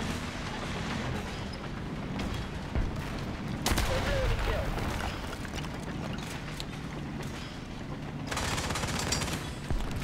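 Tank combat in War Thunder: bursts of gunfire and sharp cannon blasts crack over a steady mechanical rumble, with loud broadband hits near four and eight seconds.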